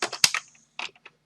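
Brisk computer keyboard typing on a Windows PC, a cluster of close clicky keystrokes followed by a short pause and a few more taps, with no talking.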